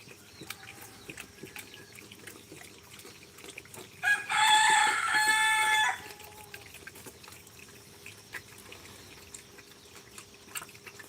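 A rooster crows once in a village setting, a loud two-second call standing out over faint background chicken clucks and quiet ambience, with no talking.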